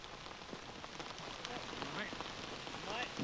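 Rain falls on a golf course during a 1985 Japanese senior golf broadcast, a dense, continuous patter and hiss that holds steady throughout.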